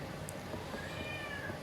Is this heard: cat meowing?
yes